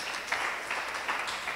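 A church congregation applauds strongly during a service: a steady wash of many hands clapping at moderate volume, rising in brief swells, with no clear speech over it.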